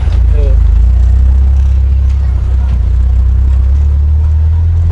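A modified 1983 Suzuki Jimny with a turbo engine runs loud and close, its low steady engine drone holding for the whole stretch with slight swells as it is revved.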